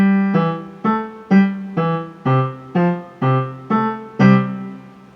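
Measures 3 and 4 of Schumann's The Wild Horseman played on piano: about ten short, detached chords struck in a brisk, even rhythm, each decaying quickly, close and clear with no talking.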